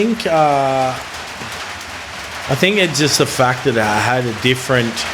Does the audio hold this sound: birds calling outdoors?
no